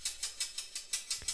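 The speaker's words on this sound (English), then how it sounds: "For example, these closed hi-hats." Closed hi-hats in a produced pop drum track, seven crisp, evenly spaced ticks in a steady eighth-note rhythm, bright and short, played alone and fairly quiet.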